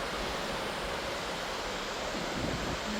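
Atlantic Ocean surf on the Irish coast rushes in a steady, broad roar, blended with wind buffeting the microphone.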